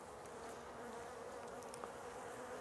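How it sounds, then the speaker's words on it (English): Worker bees buzz steadily around an open beehive at Botanica Ditton Park, a continuous close swarm hum with some individual insects flying past nearby and no talking. "a few bees now flying in the air to investigate what it is we're doing"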